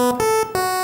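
A thin, buzzy Game Boy style square wave synth set to a 16th pulse width plays three short stepped notes in quick succession, bright and nasal, loud and close with no other sound.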